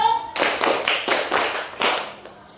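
Hands clapping in a counted rhythmic clapping game with children, about five sharp, evenly spaced claps, close and distinct, tailing off at the end.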